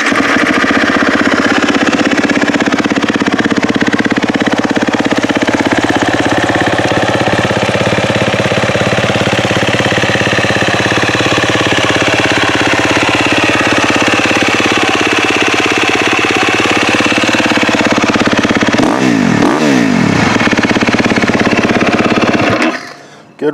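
A 2019 KTM XC 250 F dirt bike engine runs steadily near and loud for about twenty seconds, with a brief revving sweep near the end before it cuts off.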